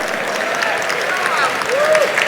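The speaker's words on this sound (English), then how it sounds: "big round of applause for the dinner service we just got at the convention center" A convention-center crowd at a technology awards show applauds the dinner service, with steady, dense clapping throughout and a few cheers and voices rising above it.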